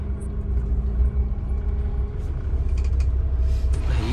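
A Scania coach rolls slowly into a depot garage with a steady low engine rumble, a brief air-brake hiss near the end, and no talk.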